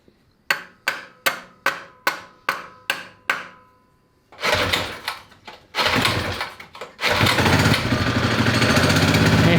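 A 1970 Fox Condor mini bike engine is pulled over eight times in a steady rhythm, then catches and runs loud and rough, briefly dipping before settling into a continuous close-up roar.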